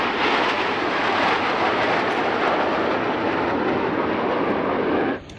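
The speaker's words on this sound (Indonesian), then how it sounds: "kalau yang ini pesawat tempur punya Amerika, teman-teman. Kita terbangkan." An American fighter jet flies past with a loud, steady roaring rush that holds evenly for about five seconds, then cuts off abruptly at the end, no voices present.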